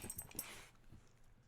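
A dog in the Phoenix Wright: Ace Attorney video game gives a few faint, short whimpering yips at the start, then quiet background remains.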